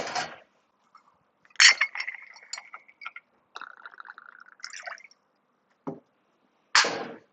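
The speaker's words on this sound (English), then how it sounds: "So I'm taking my jigger and pouring just like this." Campari poured from a metal jigger into a cocktail at a flair bartending session, a thin trickling stream in two short runs, framed by sharp glass and metal clinks at the start and end.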